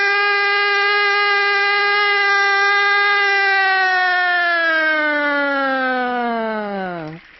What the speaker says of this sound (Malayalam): മുനിസിപ്പാലിറ്റി ഓഫീസിലെ ആ സൈറൻ